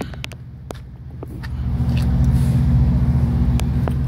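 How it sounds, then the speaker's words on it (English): A Freightliner Cascadia truck with a manual shift sits with its diesel engine running, a low, steady rumble that grows louder and holds, heard nearby with a few faint clicks and knocks over it. "this is a Freightliner Cascadia"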